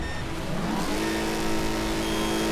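A Ford Mustang engine revs and accelerates in the Wreckfest racing game, a loud continuous motor drone rising in pitch as the car pulls away, no talk.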